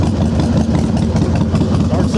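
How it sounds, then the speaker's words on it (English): Harley-Davidson Softail Standard FXSTI motorcycle with Samson exhaust pipes starts and settles into a steady, loud, deep idle close by, heard alone. "I'll go ahead and start it up so you can hear those Samson pipes."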